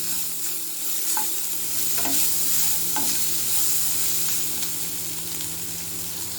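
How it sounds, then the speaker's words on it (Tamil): Ginger garlic paste sizzling with browned onions in a pan for vegetable biryani, a loud continuous frying hiss with a few faint clicks of stirring, close and without talk. "இப்போ வந்து நான் இஞ்சி பூண்டு விழுதை சேர்த்துக்கிறேன்"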